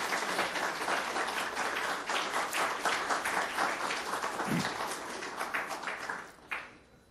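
A conference audience at a North Korea human rights gathering claps steadily for two honored guests, a dense, even patter of many hands that fades slightly near the end.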